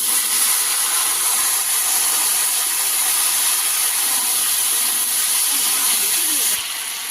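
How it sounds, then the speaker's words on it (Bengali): Potatoes and taro fry in oil with five-spice (panch phoron), giving a loud, constant hiss that holds steady throughout, then drops slightly at the very end. "দিয়ে দেবো একটু তেল, দিয়ে দেবো পাঁচফোড়ন, কেটে রাখা আলু আর কচুটা"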